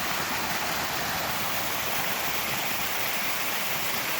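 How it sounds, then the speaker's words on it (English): Roadside waterfall in Golden Ears Park, a steady broadband rush of falling water that holds constant and close throughout, with no voices. "Golden Ears Park, nice waterfall"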